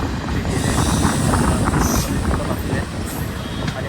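Interior of a moving long-distance passenger train: a loud, continuous rumble of wheels on track with dense rhythmic rattling and occasional faint squeals, steady throughout with no one speaking.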